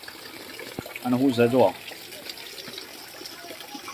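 Floodwater after heavy rain in Itadara village, Gujarat, makes a steady, low rushing wash throughout, briefly overlaid by someone speaking close by.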